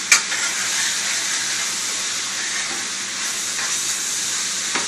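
Bell pepper frying in a skillet while being stirred, a steady close sizzle and hiss with faint scraping and a couple of light utensil taps, no voices.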